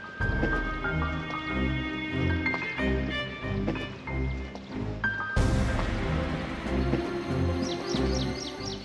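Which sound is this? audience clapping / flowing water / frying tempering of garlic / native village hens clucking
flowing water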